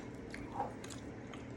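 Someone eating cauliflower pizza, a soft close bite followed by faint moist chewing in a quiet room, with no talk during it.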